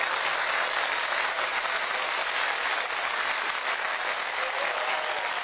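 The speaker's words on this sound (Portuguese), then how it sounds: "dar um abraço no presidente Jair Bolsonaro através das nossas palmas, né?" Dense, steady applause from a television studio audience on a Brazilian variety show, a broad wash of many hands clapping at even loudness for the whole stretch with no voices on top.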